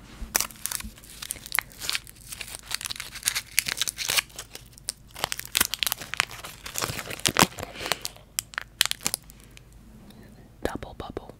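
A watermelon Double Bubble bubblegum wrapper crinkles and crackles in quick irregular bursts, very close to the microphone, as whispered speech runs underneath, then tapers into quieter handling near the end.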